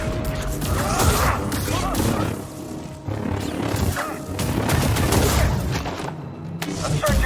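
Blaster fire in a Star Wars video game, rapid repeated energy shots and crashing impacts in a busy firefight, loud and continuous with voices shouting underneath.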